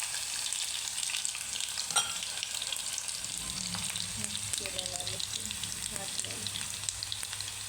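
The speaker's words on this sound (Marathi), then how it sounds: "तेल तापलेलं आहे आता मी चिरे मोहरे टाकून घेईल त्यात मी लसूण टाकून घेणार आहे" Cumin, mustard seeds and garlic crackle and sizzle in hot oil while cooking cabbage bhaji, a steady dense frying hiss with small pops and occasional stirring scrapes close by.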